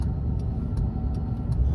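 A supercharged Ford Crown Victoria with a five-speed idles while rolling along a road, giving a steady low engine rumble with faint ticks over it, continuous and moderately loud from inside the car.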